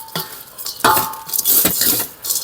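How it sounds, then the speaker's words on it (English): Damp sphagnum moss being stirred and worked by hand for repotting a Queen Anthurium, giving soft crackly rustling and scraping in uneven bursts, close and fairly loud. "it's really hard to actually mix the sphagnum moss"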